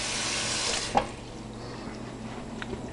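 Tap water running steadily into a container for soaking beans in a kitchen, a continuous close hiss and splash with a small clunk near the start.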